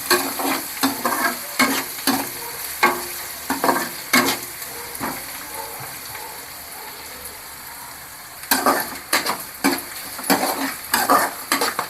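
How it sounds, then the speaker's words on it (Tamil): Onions sautéing in oil in a pan for kara kuzhambu, an okra curry, with a steady sizzle under repeated scraping stir strokes in bursts, a quieter sizzling pause midway, then more stirring; no talking. "வெங்காயம் இதுக்கு நல்லா வதங்கி வரணும் இந்த காரக்குழம்புக்கு"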